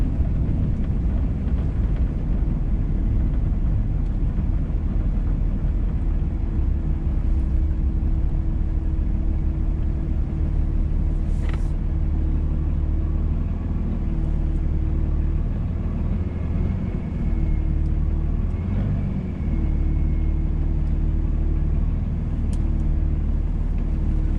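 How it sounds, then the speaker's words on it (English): A car with a failed clutch drives along, its engine and road rumble low and steady at close range, with a few brief higher tones and slight dips in the drone. "Driving without a clutch. Took some getting used to."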